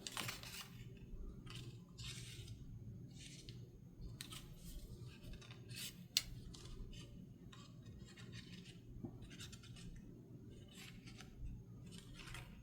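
Scissors trimming handmade paper ephemera for a junk journal, giving quiet repeated snips and rustles at close range over a low steady background, with no talk.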